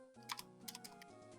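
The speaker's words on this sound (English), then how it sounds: "I saw you typing that out" Quick keystrokes on a computer keyboard come in two short bursts of crisp clicks, close and fairly faint, over steady background music.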